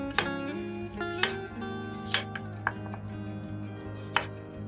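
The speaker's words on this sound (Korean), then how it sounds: "양파를 잘게 썰어 작은 양파찹을 만듭니다" A kitchen knife chops onion finely on a board, five or six sharp, spaced strikes standing out clearly over steady background music.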